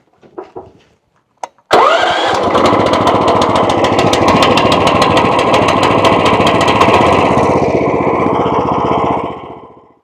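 A stump grinder engine fires up after a few light clunks, then runs loud and steady with a rapid rattling chatter close by for several seconds before winding down at the end.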